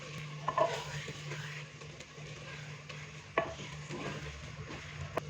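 A spoon scrapes and stirs through a pan of moongre and peas curry with finely chopped green coriander, quiet close stirring with a couple of sharper clinks against the pot.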